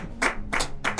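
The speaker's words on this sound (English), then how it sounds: "Please do not clap for fraud." A few isolated claps from a live comedy show audience, three or four sharp close hand strikes spaced irregularly over a low background hum.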